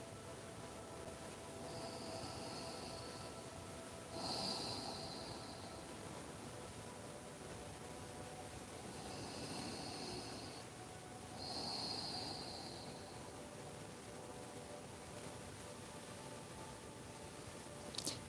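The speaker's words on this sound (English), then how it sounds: "Inhale and exhale through your nose" Slow, steady breaths drawn in and pushed out through the nose during a quiet yoga session in prayer posture, soft airy hisses rising and falling in a calm rhythm with long gaps, close and gentle.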